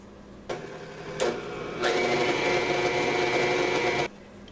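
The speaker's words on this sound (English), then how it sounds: "we're going to turn our mixer back on medium" An electric mixer whirs as it whips pecan and chocolate chip pound cake batter, with two brief starts followed by a steady mid-speed hum for about two seconds before it switches off.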